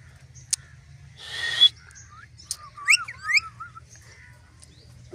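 Pet parrots, including a ringneck, give a few sharp whistled chirps and warbling calls close by, with a brief noisy screech early and quiet pauses in between.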